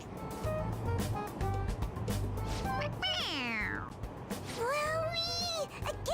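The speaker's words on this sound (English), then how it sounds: "It meows when you press on its head." Meowing from a toy cat in Persona 5 Royal, set off each time its head is pressed: several bright, rising-and-falling electronic mews in quick succession over busy game background sound and music.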